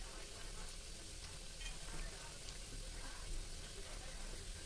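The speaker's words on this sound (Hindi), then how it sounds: "अब इसी तरीके से सिकने देंगे और इसको गैस एक एक करके पलट देंगे इस तरीके से।" Atta and jaggery snacks roast in a pan on a gas stove, giving a steady soft sizzle with faint scraping as pieces are turned over one by one, close and even throughout.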